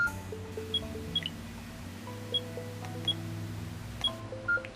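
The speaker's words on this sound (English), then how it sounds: "It's the same beep for everything" A Samsung Genio Slide phone repeats its default glossy notification beep, several short bright tones spaced irregularly over a low steady background hum, close and fairly quiet.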